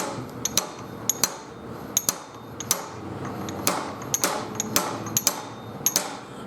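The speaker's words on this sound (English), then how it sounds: "Put the little slide hammer on, and just tap and turn." Repeated sharp metallic taps from a small slide hammer seating a fork seal on a motorcycle, struck in an uneven rhythm about twice a second, close up with no talking.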